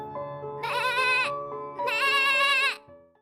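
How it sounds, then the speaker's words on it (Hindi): A goat in a village bleats twice, loud and near, each cry long and wavering, with a short pause between them and no talking over it. "ये तो बकरी की आवाज आ रही है"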